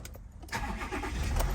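Volkswagen Amarok V6 cold start: a short starter crank followed by the engine catching and settling into a loud, close idle, no talking.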